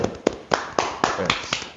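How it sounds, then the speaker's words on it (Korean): A few people clap in slow, evenly spaced beats of encouragement, each sharp clap standing out clearly in a small room with a voice speaking beneath. "김치현 씨께 한번 격려의 박수 한번 보내드리고"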